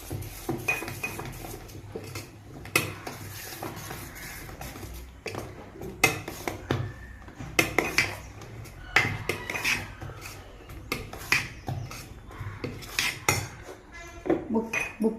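A spoon clinks and scrapes around a bowl while salt and ingredients for instant vada batter are mixed, steady close-up stirring with repeated metallic knocks and no talking.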